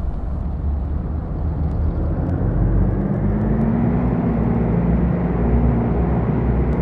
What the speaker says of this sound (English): Now open the throttles fully.